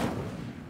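Incendio, a fire spell in Hogwarts Legacy, bursts out as a short, deep whoomp with a quick decaying rumble, loud and close, heard alone.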